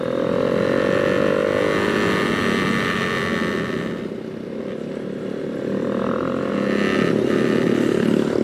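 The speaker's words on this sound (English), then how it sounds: "Well, at least we have our loud exhaust, so at least they can hear us coming." Small motorcycles, a Kawasaki Z125 Pro, KSR 110 and Honda Monkey, ride a crowded road near Janda Baik with loud exhausts: a continuous droning engine note that dips briefly and swells back, close and loud throughout.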